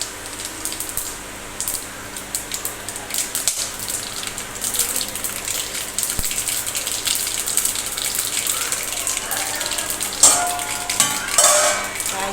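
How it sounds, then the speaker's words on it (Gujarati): Mustard seeds, cumin and black pepper hit hot oil in a home kitchen and sizzle in a steady, close crackle, with a few sharper pops bursting out near the end. "આપણે રાઈ, જીરું, મરી નાખી દઈશું."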